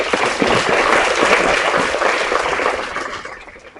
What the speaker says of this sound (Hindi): एक बार फिर जोरदार तालियों के साथ